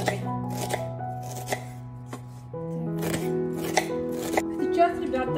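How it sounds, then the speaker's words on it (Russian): A knife slices an onion into half rings on a board, with a series of crisp, irregular cuts heard under background music and a person talking. "и вторую луковицу точно так же режем"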